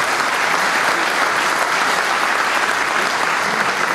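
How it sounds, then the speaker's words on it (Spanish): A crowd at the opening ceremony of a tourism congress applauds, a thick continuous wash of clapping, loud and even throughout without any break. "Aquí le vamos a dar un aplauso a Carlitos"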